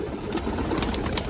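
Several pigeon chicks, Pakistani and Giribaz breeds, coo softly and steadily in a loft, their low murmuring continuous and close with no talk.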